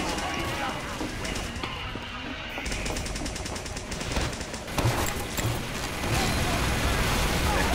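Automatic sentry turret in Team Fortress 2 firing in rapid bursts, a dense mechanical gunfire rattle running throughout, mixed with other game noise and a voice talking over it.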